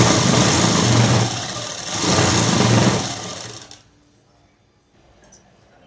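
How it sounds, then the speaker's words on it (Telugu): A sewing machine stitches a double seam on a night dress, running loud and steady in two bursts before stopping, leaving near silence with a brief click near the end. "మళ్ళీ తిప్పేసి మళ్ళీ అటువైపు చివరి వరకు కుట్టు వేసుకోవాలండి. అంటే డబల్ కుట్టు వేసుకోవాలి."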